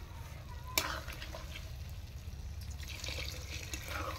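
Water goes into a pan of frying paneer for paneer masala, a steady low sizzle and gentle liquid stirring running throughout after a single sharp clink near the start, with no talking.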